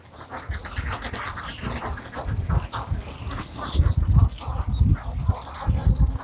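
A flock of ducks on a duck farm, restless quacking and scuffling mixed into a dense, steady farmyard din, fairly close and continuous throughout.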